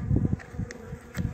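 Honeybees buzz at a hive of young swarm colonies during a brood check, a dense low hum that swells and pulses in short waves, close to the microphone.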